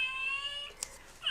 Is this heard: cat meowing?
yes